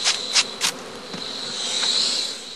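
Honeybees hum and buzz around straw skeps covered with light cloths at a bee farm, a steady close insect drone with a few louder passes of individual bees flying by.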